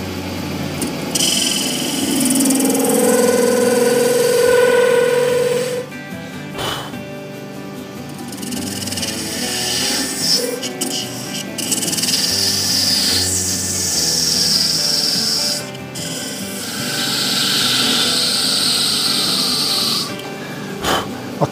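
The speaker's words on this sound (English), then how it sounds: "So I'm going to part this off." Lathe tool parts off a cast resin shaving brush handle, a sustained scraping, hissing cut with a few brief pauses and changes in pitch, loud and close, with no voices.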